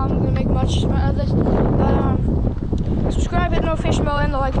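Strong wind buffets the microphone in a constant roar during snowfall, with a person talking over it throughout.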